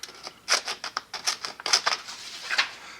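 Small spring-loaded scissors with micro-serrated blades on a Wenger Evolution Clipper multi-tool snip repeatedly at close range, a quick series of crisp, scratchy cuts in an uneven rhythm.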